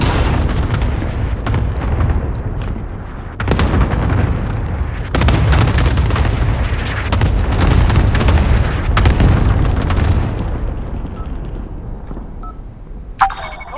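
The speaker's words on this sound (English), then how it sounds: "Airstrike, hit my target." Airstrike explosions in Call of Duty Modern Warfare rumble loud and continuous, with deep rolling booms that swell and overlap before fading toward a quieter tail with a faint electronic blip at the end.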